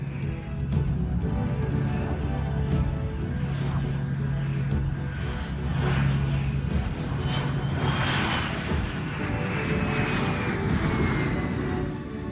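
An F-18 Hornet test jet performs carrier-style landings and takeoffs at a land base, a loud sustained engine roar with a whining tone sweeping upward as the aircraft passes.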